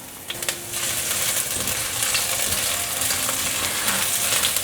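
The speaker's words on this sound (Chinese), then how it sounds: "锅内放入刚刚炸面肠的油，大概2汤匙，放入姜丝炒香" Ginger strips stir-fry in about two tablespoons of oil in a large wok. The sizzle is loud and continuous, broken by occasional scrapes and stirs close by. No one speaks.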